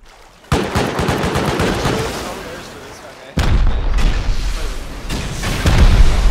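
Heavy blasts hit metal barricades in the game Rust, a sudden loud explosion followed by rumbling decay, then a second powerful boom and sustained roaring debris noise.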